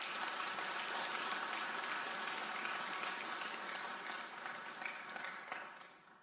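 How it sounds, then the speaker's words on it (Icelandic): A graduation ceremony crowd applauds the graduating students, sustained many-handed clapping heard from a distance, steady and then tapering off near the end. "Við skulum klappa fyrir þeim."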